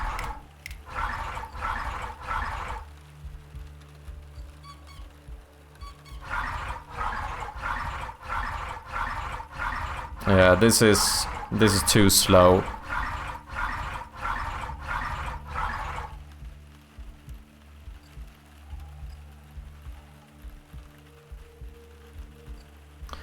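Repeated gurgling water-pipe sound effect from a point-and-click game, looping in regular bursts with a louder, sharper burst in the middle, while a person briefly speaks.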